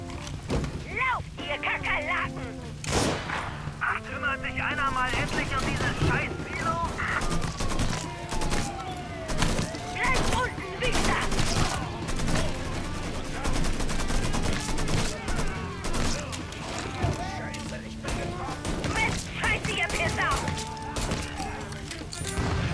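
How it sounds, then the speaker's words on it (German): Grenade blasts and bursts of gunfire from the open-world crime game Mafia 3 rattle through a busy, dense battle soundscape, with scattered sharp cracks and a continuous backdrop of game noise, while someone talks over much of it. "Gut die Granate geworfen."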